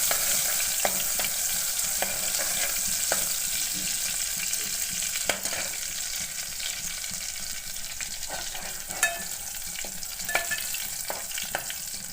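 Dry-pounded garlic frying in oil for a village-style cauliflower curry, a steady close sizzle running throughout with occasional clicks and stirring taps, no voices.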